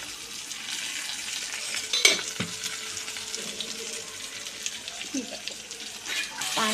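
Besan-coated green chillies sizzle in oil over a full gas flame, a constant hissing fry with a couple of sharp clatters, while a person talks over it.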